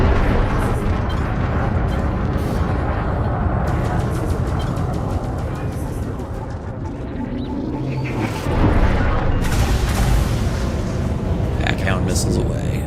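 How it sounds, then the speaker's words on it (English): Missiles launch and detonate in the space combat game Elite Dangerous during an attack on buildings, heard as a continuous roaring, rumbling blast with sharper crackling bursts toward the end, mixed with game noise throughout. "Missiles away."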